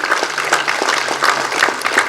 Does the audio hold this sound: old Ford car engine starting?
no